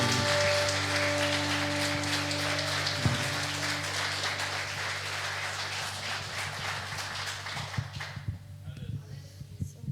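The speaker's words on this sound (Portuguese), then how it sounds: "Aplauda o Senhor Jesus dessa manhã" A church congregation claps through a Sunday family worship service, a dense, steady wash of applause holding throughout that thins out near the end, with a sustained organ or keyboard tone underneath.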